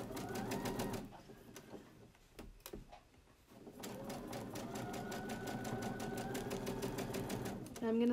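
A sewing machine runs in quick, even stitching bursts, back tacking to secure elastic on a fabric face mask, with a short pause and some nearby voice and handling noise before it resumes.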